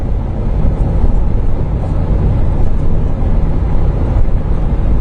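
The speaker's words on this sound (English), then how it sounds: "This car runs really bad." A 2002 Ford car engine running roughly, a loud, dense low rumble that stays fairly steady for several seconds, heard close and alone without speech.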